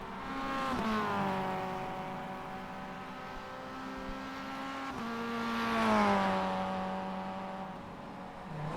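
A Mazda MX-5 race car engine in iRacing at Summit Point Raceway climbs to a loud, buzzing rev, holds, dips under throttle, then surges again and falls away, heard close and alone.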